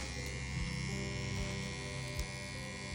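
Tattoo machine, a smooth punchy rotary type, buzzing steadily as it draws a line on fake practice skin, a close, continuous electric hum and whine with slight fluctuations in load.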